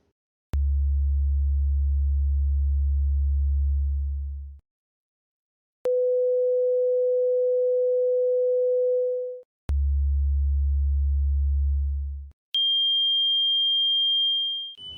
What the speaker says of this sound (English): let me play you a tone.